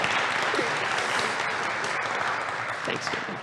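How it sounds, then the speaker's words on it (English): A church congregation applauds during a Sunday service, a thick, sustained wash of many hands clapping in a reverberant sanctuary, with some voices mixed in. "So can we just give her a round of applause"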